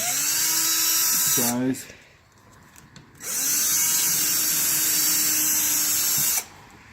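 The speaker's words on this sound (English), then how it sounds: "we're just going to go ahead and drill these out a little bit" Power drill boring out locking nuts on a Class A motorhome during a fog light upgrade, whining loud and close in two long runs split by a short pause, with a brief spoken word in between.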